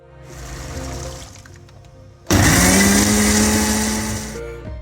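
An electric mixer whirs through a batch of sugar, vinegar, salt and cornflour, first a softer hum, then a sudden loud, steady high-pitched whine that holds for a couple of seconds before easing slightly.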